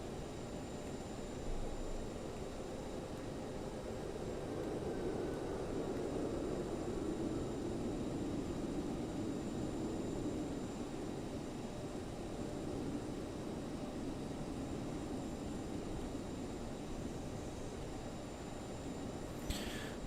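A Boeing 787 Dreamliner departing in Microsoft Flight Simulator 2020, heard as a steady, even broadband jet roar that holds at a constant level throughout.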